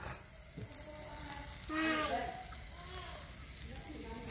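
Squirrel meat sizzles and fries on a grill at an outdoor drinking party, a steady crackle under nearby chatter and background noise.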